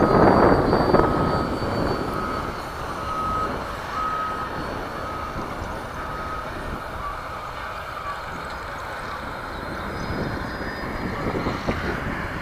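A Freewing Stinger 64mm electric ducted-fan RC jet cruising at about half throttle in windy conditions, giving a steady, distant whooshing whine with wind noise, fairly even in level throughout.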